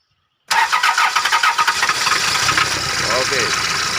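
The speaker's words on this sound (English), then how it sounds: "put it inside the inlet manifold and crank the engine" A Toyota 2C diesel engine cranks with a quick, rhythmic starter chug after a moment of silence, then catches and settles into a loud, close, steady idle.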